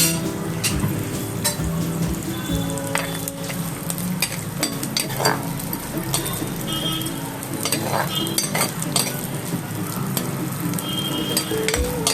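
Chopped onion, ginger and green chilli frying in hot oil, a dense, steady sizzle with frequent stirring scrapes and occasional clinks of a spoon on the pan, close and loud throughout.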